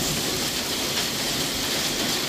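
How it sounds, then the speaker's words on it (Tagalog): Dense, steady hiss of hailstones and heavy rain pelting a conservatory roof, continuous and loud with no pauses or voices. "Umuulan ng hailstone."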